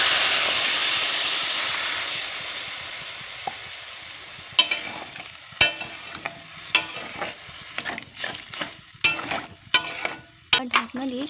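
Water poured into a hot pan of potatoes and onions for aloo posto sets off a loud hiss that slowly fades, followed by sharp clattering stirs and sizzling from the pan.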